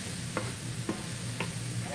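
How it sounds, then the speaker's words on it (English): Food sizzles softly in a pan while peach and sweet potato salad ingredients cook, a steady crackle with three brief clinks of stirring over it. "You can probably hear that sizzling"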